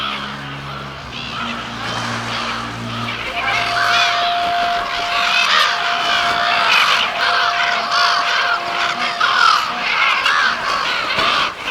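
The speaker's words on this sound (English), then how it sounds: "Geese and gulls, grebes and terns, abruptly ending the silence of the high plains." Migrating geese call over the Himalayan high plains in a busy, continuous chorus of honks and harsh caws. The calling builds and stays loud throughout, with many birds sounding at once from mid-distance.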